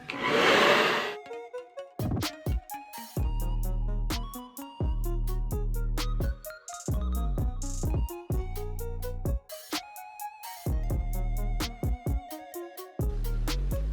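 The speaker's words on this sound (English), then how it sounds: "I'm going in with my blow dryer, and I'm just gonna dry it" A handheld blow dryer runs loud and close while drying a lace front wig, cutting on and off repeatedly in bursts of steady whirring airflow, with no talking.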